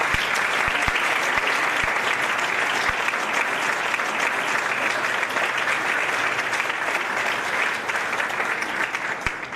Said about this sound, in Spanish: Adrián Ramírez, un aplauso para él, por favor.